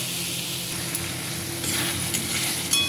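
Potatoes sautéing in a pan for banana kofta curry, a dense steady hiss of frying with a few light stirring scrapes, close and loud throughout.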